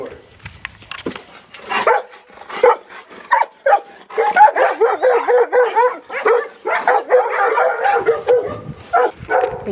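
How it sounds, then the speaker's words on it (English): Friendly little puppies on a farm yap and bark in quick, overlapping bursts close by, the excited yips building into a steady chorus while people chat nearby. "They're friendly little puppies."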